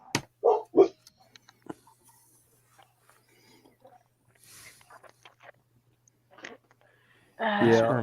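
Indoors, dogs let out a few short barks early on and a louder bark burst at the end, reacting to someone in the kitchen, with faint scattered sounds in between.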